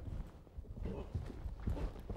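Horse hooves thudding in a steady rhythm during jump training with a volte, a dull clip-clop close by, with a little speech over it.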